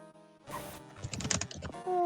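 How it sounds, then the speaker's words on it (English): Fast, aggressive typing on a computer keyboard makes a dense cluster of close clicks. A brief burst of noise comes before it, and a faint tone sits underneath. "Typing really aggressively."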